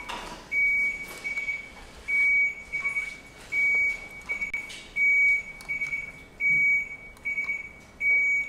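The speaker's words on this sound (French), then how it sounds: "Encore une fois, on va faire un test de buzzer tout de suite." Repeated electronic quiz buzzer beeps during a buzzer test at a quiz competition, sounding as a series of steady sustained tones about once a second, each separated by short gaps with faint room noise between them.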